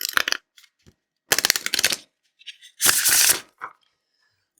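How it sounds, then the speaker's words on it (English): A deck of oracle cards is shuffled in three quick riffling bursts, with soft tapping and handling sounds in between, close and clear. "So being able to shuffle a deck the way that you shuffle it"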